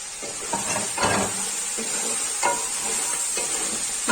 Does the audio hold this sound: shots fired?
no